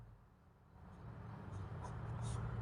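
A pen scratches faintly across paper as a maths solution is written out, a soft, continuous scraping close by in a quiet room.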